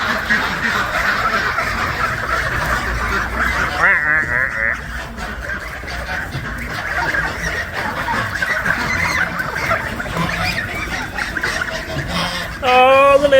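Backyard ducks or geese honk and quack in a steady, busy chorus after being let out of their pen, close by and fairly loud, with a person talking over them throughout.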